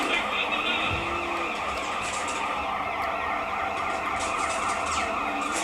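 A police car siren wails in the video game Sleeping Dogs during a car chase, sweeping steadily over continuous engine and road noise, loud and unbroken for several seconds.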